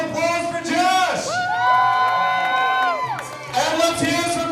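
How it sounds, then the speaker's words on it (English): Spectators at the Pine Barons vs New York Orcs Hussaria Cup match roar for a dancer, with loud drawn-out whoops and yells over a steady crowd din and a little clapping mixed in. "Give us some applause for Josh."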